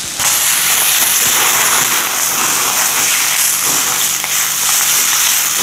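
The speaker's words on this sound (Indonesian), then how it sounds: "jadi ditumis sebentar aja, nanti bersama dengan garam dikit" Tomatoes and other ingredients sauté in a hot pan with a little salt, a loud, dense, close crackling sizzle holding steady throughout.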